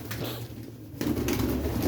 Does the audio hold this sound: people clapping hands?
no